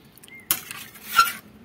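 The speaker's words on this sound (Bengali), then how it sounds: "জলটা আর দেবো না, এবার একটু ঢাকা দিয়ে দেবো।" A metal lid is set onto a cooking pot of jackfruit and potato, giving a near clink and clatter and then a second light knock. It sounds alone, over a faint background.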